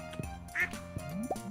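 Ducks quacking in the Stardew Valley farming game, a few short, nasal quacks in quick succession, fairly faint against a quiet background.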